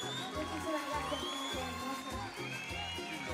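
Festival crowd in Río Gallegos applauding and cheering for a band on stage, a steady dense roar of clapping, whoops and crowd noise mixed with loud live music throughout.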